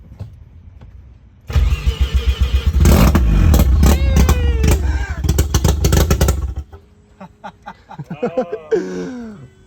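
A Mazda FC RX-7 with a swapped Turbo II rotary engine cranks, catches and revs in loud, rough bursts before dying, then cranks again in a short stuttering attempt; close and raw, with no talking.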